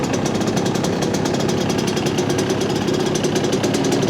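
A Yamaha YZ125 two-stroke dirt bike engine running steadily up close on a cold start with the choke on, a loud, continuous buzzing rattle with a fast, even pulse.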